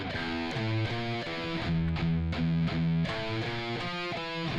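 A distorted electric guitar plays a harmony riff section, with chugging, rhythmic chord stabs and short note runs, loud and alone without speech.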